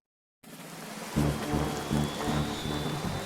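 Steady rain falls on a rainy day in a Sonic game scene, a dense continuous hiss with soft pulsing thuds of heavier drops, starting abruptly after a moment of silence.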